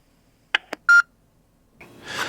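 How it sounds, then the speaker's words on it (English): A Hosmart wireless intercom transmitting from the second floor of a house to the basement gives a few short electronic beeps, then a swelling hiss of open-channel static, heard close and alone. "I am on the second floor of my house transmitting to the basement with the wireless intercom."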